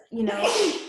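One short, sharp sneeze bursts out close by, a quick breathy blast that fades within a second.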